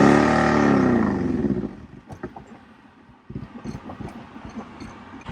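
A car engine revs loudly as the gas pedal is pushed with a manual clutch, a strong rising roar that fades after about two seconds. Quieter mechanical clatter and knocks follow.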